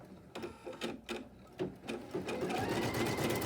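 Sewing machine stitching through quilt batting, a close run of rapid mechanical stitch bursts that settles into a steady continuous whir.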